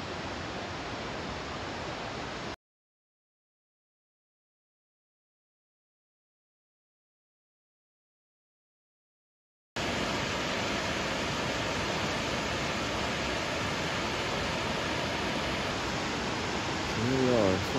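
Broad, steady roar of White Water Falls, a big waterfall about 811 feet high, reached by a short hike. It is heard briefly, then drops to silence, then returns as a continuous full rush for the rest of the stretch.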